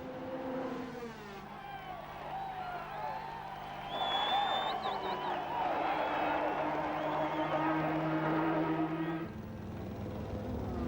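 A crowd roars at a 500cc motorcycle Grand Prix as Doohan makes his move, the cheering swelling over the steady whine of passing race bikes, with a commentator talking throughout.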